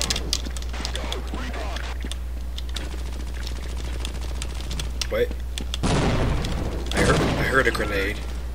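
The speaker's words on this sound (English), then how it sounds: "I heard a grenade." A grenade in Half-Life blasts with a sharp, loud burst, followed by another heavy blast a moment later, amid a stretch of rapid gunfire and clattering combat noise.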